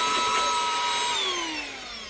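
A Bissell cordless hand vacuum runs alone with a steady high-pitched motor whine and airflow hiss, close and loud, its tone sliding gradually lower as it winds down near the end.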